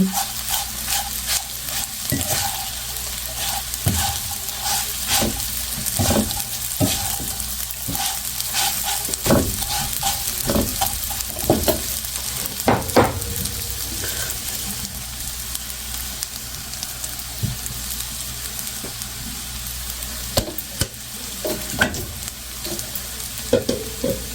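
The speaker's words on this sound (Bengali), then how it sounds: "হাফ কাপের মতো চিনি গুঁড়া করে নিয়েছি এটা মিক্স করে নেব" Powdered sugar is stirred into a sizzling pan, with a constant frying hiss and repeated sharp scrapes of the spoon against the pan at an irregular rhythm, close and clear.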